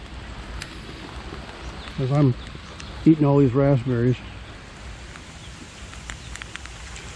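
Rain falls steadily outdoors in a garden, a soft continuous patter throughout, with a person speaking briefly over it in the middle.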